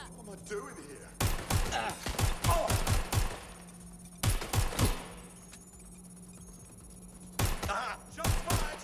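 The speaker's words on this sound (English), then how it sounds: "Shots fired! Shots fired!" Bursts of gunfire in the video game Watch Dogs: Legion, arriving as three separate rapid volleys of sharp, loud shots with short pauses between them and quieter game ambience in the gaps.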